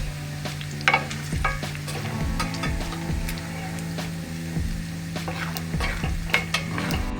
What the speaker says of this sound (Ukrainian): Цибулька наша порізана, я висипаю в жир і буду смажити після шпандерка